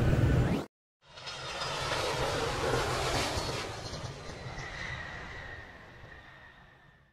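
Steady loud airplane engine roar with rushing air heard from inside the cabin fills the space after a brief cut, holding constant and fading slightly toward the end.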